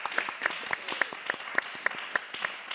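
A congregation of women at a church service applauds and acclaims God, with steady, dense clapping filling the room throughout and brief sharper claps standing out. There is no clear speech over it.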